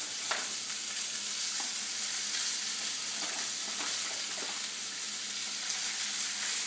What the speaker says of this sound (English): Just placing the short ribs in now.